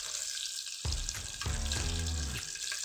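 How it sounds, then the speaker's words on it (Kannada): Onions frying in oil over a medium gas flame for pulao, sizzling loudly and continuously right after they drop into the pan, with stirring scrapes and bubbling running through the rest. "ಈರುಳ್ಳಿ ಹಾಕ್ಕೊಂಡು ಕೆಂಪಗಾಗೋವರೆಗೂ ಇದನ್ನು ಫ್ರೈ ಮಾಡ್ಕೊರಿ"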